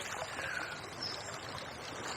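Fast, choppy water of the River Wye rushing past, a steady low-level babbling and gurgling wash heard outdoors at the riverbank, with no voices.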